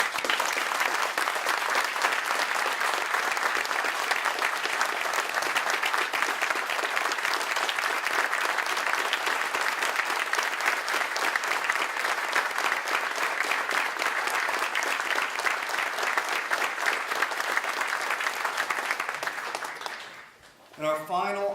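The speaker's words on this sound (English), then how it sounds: "I'd like to give you a round of applause" Sustained applause from an audience at a police department's quarterly awards ceremony, a dense, steady wash of clapping that fills the room for about twenty seconds before fading out abruptly near the end.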